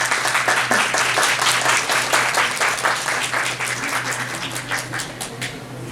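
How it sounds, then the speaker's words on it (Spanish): An audience gives a loud, dense round of applause to welcome a presenter at a talk on grief in children, the clapping continuous and full for several seconds before easing slightly. "Vamos a recibirla con un fuerte aplauso"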